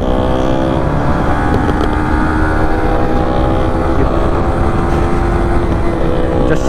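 A loud engine roars steadily throughout, a harsh revving TVS Apache RR 310 sport motorcycle passing close by on a highway, with heavy rumbling and whining harmonics, no talk.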